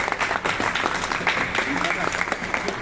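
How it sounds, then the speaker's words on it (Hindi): An audience at an Indian devotional gathering in Itarsi claps in a steady, moderately loud burst of applause, with voices talking over it. "सब ताली बजा दें सर एक बार।"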